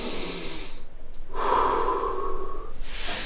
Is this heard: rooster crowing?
no